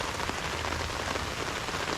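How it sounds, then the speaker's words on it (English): Torrential rain pounds a surface during a thunderstorm while camping, a dense, continuous hiss close by with no other sounds. "it started raining torrentially again"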